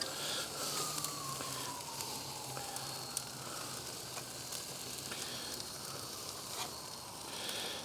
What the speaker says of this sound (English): Even in a little country town like this, you still hear sirens.